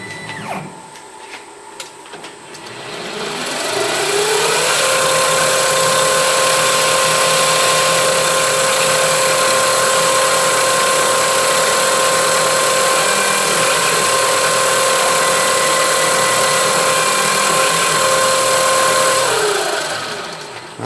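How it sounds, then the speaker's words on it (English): A center drill cuts marking holes in a metal casting for a Stuart Turner No. 8 mill engine, a steady close high-pitched machine whine that ramps up, holds for about fifteen seconds, then winds down. "I'm just going to mark it with a center drill, and I'll finish off on the drilling machine"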